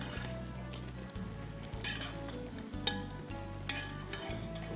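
Caruru with mango simmers in a pan, giving a quiet steady sizzle broken by several soft stirring scrapes and a couple of sharp utensil clinks against the pan.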